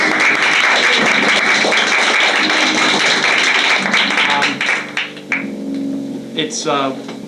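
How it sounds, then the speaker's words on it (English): A studio audience on a 1982 talk show, Flash Family, applauds to welcome the husband-and-wife guests: steady, loud, dense clapping that fills most of the clip, then thins out as music and voices take over near the end. "Can we have an applause?"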